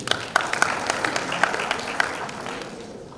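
Applause from an audience at a French-language school competition, a crowd clapping steadily with a few sharp individual claps standing out, moderately loud and fading slightly toward the end.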